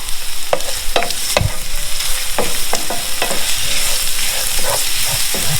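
Chopped ginger and garlic fry in a hot pan, a continuous close sizzle broken by several sharp scraping stirs of a utensil against the pan.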